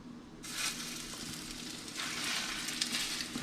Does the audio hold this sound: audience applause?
no